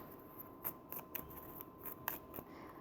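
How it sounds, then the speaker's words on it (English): Soft, quick tarot card shuffling taps and flicks repeat unevenly, faint and close, with crisp clicks standing out against a quiet hiss. "I'm going to shuffle to proceed to collect these 3 cards"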